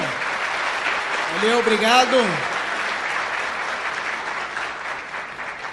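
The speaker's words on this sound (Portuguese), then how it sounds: "Salva de palmas então de novo." Audience applause fills the room at a PHP developer conference in Curitiba, a dense, steady clatter of many hands lasting several seconds while someone briefly speaks over it.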